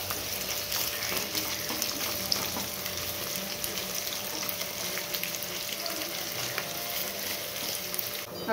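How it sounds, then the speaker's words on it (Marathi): Chopped onion frying in about three spoons of hot oil, a steady close sizzle that stays even and unbroken throughout. "सगळ्यात पहिले आपण कांदा लाल तळून घेऊ"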